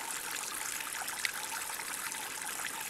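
Water fountain in Aridan's Halloween Escapades, a computer game, gives off an unbroken trickling, splashing stream, evenly sustained and fairly quiet, with one faint click partway through and no speech.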